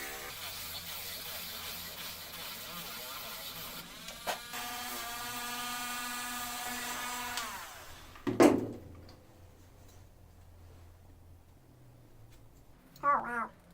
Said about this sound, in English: So now I have to sand the inside of this until it's a perfect fit,